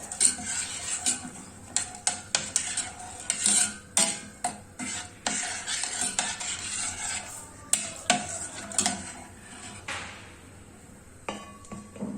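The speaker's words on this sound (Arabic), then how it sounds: "كنبقاو نحركو حتى كيذوب لينا مزيان الشوكولاط" Steady scraping and clinking of a spoon stirring melting chocolate in a pan on the heat, with irregular strokes and occasional knocks against the metal, close and fairly quiet.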